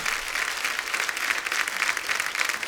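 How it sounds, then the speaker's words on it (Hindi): A studio audience on the Kapil Sharma comedy show breaks into dense, sustained applause for arriving guests, including actress Anita Raj, a loud continuous wash of many hands clapping with no voices over it. "एक बार जोरदार तालियां जीनत जी के लिए, अनीता जी के लिए, पूनम जी के लिए।"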